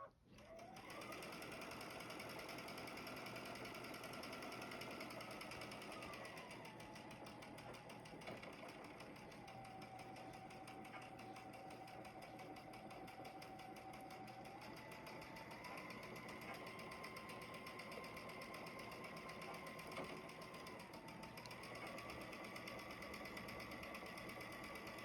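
A sewing machine runs a steady, continuous stitch down a quarter-inch seam on quilt fabric, a close, even mechanical whir with slight shifts in speed.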